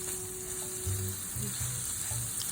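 Garlic sizzles in a pan on the stove with a soft, steady fry. Faint low clicks and stirring bumps sit underneath the sizzle.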